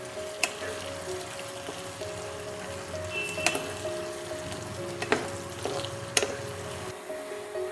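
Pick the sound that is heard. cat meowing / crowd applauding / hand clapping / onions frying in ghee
onions frying in ghee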